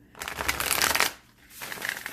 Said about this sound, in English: it shuffles like a dream